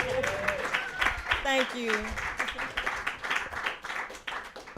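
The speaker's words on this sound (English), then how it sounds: "Y'all give it one more round of applause." Audience applause at an event celebrating a 1994 Memphis rap cassette and its artist; a crowd claps and cheers steadily throughout, with a voice speaking over the clapping.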